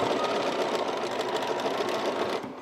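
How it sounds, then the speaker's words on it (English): A sewing machine stitches around a cotton gift bag, a fast, steady whirring hum with rapid needle ticks that winds down at the very end. "I'm just going to start sewing to make sure it's flat and lined up"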